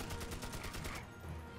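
A gun firing in the video game Magicka, a rapid burst of about nine evenly spaced shots over one second, then it stops, faint and dense.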